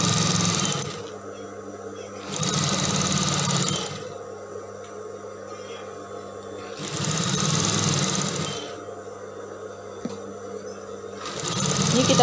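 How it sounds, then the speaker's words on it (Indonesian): Sewing machine stitching a seam on a mermaid dress: three steady, whirring bursts of running stitches, each a couple of seconds long, separated by quieter pauses with a faint hum, close and loud. "Ini kita jahit sampai bawah."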